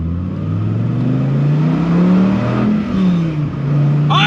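A Dodge Viper ACR with a 6-speed manual gearbox revs hard and close, its engine note rising and falling as gears shift, with a brief dip before it climbs again.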